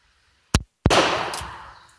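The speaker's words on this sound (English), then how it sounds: "I'm shooting it a little bit to the left" A Webley Mk V revolver fires in double action, giving a loud, sharp report followed by a longer ringing blast that decays over about a second, close and without talk.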